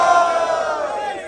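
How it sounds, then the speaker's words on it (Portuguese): A rap battle crowd roars and shouts together in one sustained, loud wave of massed voices that fades slightly toward the end. "Ace, plateia pegando fogo"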